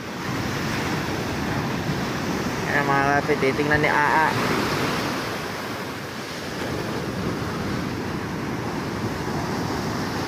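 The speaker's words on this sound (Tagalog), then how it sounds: "Alon!" Surf washing onto a river-mouth beach where crowds gather for a huge fish run, a steady broad roar of breaking waves and wind that swells briefly, with excited voices talking over it.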